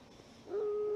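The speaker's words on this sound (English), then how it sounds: "A howl." A wolf howl in the video game Raging Loop rises over a low, quiet ambient bed and holds a steady, sustained tone to the end. No talk is heard.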